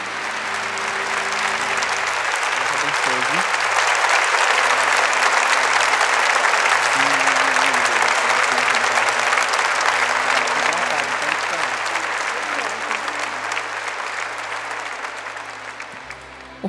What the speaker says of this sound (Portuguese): Uma salva de palmas para elas